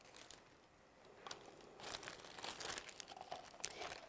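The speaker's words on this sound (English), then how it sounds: "Let me get this wet wax paper out of the way." Wet wax paper crumpled and pushed aside during a classroom science demonstration, a soft, close crinkling and rustling that grows busier and louder over about four seconds.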